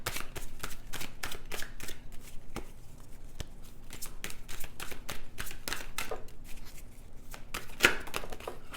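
Angel cards shuffled for a reading, a rapid run of crisp, close card snaps and riffles repeating steadily with no talk.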